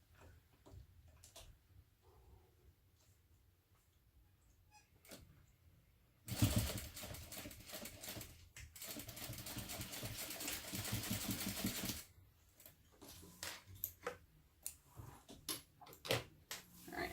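A sewing machine back stitching backpack straps for a mini backpack, a loud, fast mechanical chatter lasting several seconds between quieter clicks and handling noises.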